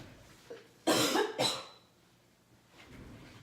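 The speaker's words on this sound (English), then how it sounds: "Oh, I have to cough." A single person coughs twice close to the microphone, two sharp, breathy bursts in quick succession, followed by quiet with faint breathing.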